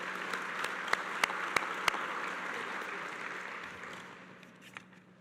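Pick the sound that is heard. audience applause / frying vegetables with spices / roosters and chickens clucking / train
audience applause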